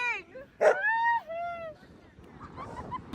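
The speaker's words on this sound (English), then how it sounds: "They're barking." Dogs on a beach bark and yip in quick high bursts, with a whining, whimpering tone, close and fairly loud, then fading into ambient noise while people's voices sound nearby.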